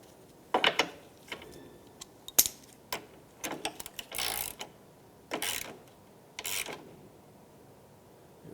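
A ratchet tightens a temperature sensor on a 1997-2001 Lexus ES 300 radiator, giving scattered close clicks and short bursts of ratcheting separated by brief pauses, with no talk.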